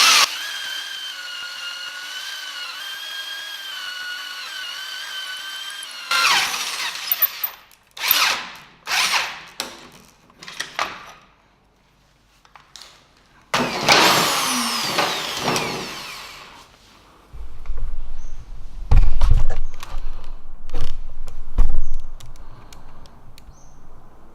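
A portable drill press with a 13mm bit whines steadily, then bites into metal without a pilot hole in several loud bursts with pauses between, ending with a lower grinding rumble.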